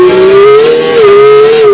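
A Shizetta racing in Gran Turismo 5 gives off a loud, thin, buzzing engine drone, holding a steady pitch with slight wavers as it runs flat out, with nothing else heard.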